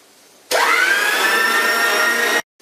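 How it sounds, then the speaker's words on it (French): An electric mixer beats egg whites at medium speed: the motor starts suddenly, whines up to a steady loud pitch, runs for about two seconds, then cuts off abruptly. "Dans le bol mixeur, mettre les blancs d'œufs et les battre à vitesse moyenne."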